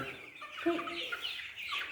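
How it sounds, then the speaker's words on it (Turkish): Backyard chickens with black feathers and bare legs, a young rooster among them, give a brief nearby cluck amid soft outdoor chirping, with no talking. "Şu yerdeki tavuk."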